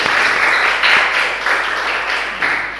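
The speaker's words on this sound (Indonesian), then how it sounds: "aplaus dulu untuk teman-teman semua" Loud, sustained applause from a group of teachers fills the room, dense clapping that swells in a few waves and keeps going without a break.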